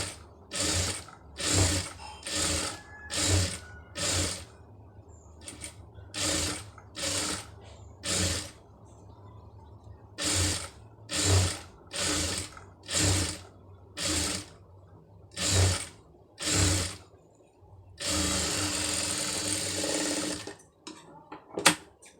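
A sewing machine stitches a round neck blouse in short repeated bursts, pausing briefly between runs, then finishing with one longer continuous run; nearby and clear, with no talking.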